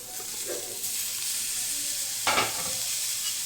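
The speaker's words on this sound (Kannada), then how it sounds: "ಈಗ ಹೆರಚಿಟ್ಟಿರೋ ಟೊಮೆಟೊ ಹಾಕಬೇಕು" Chopped tomatoes hit a hot pan for a fenugreek and paneer gravy, hissing and sizzling steadily while a spoon stirs through, with a brief louder scrape partway.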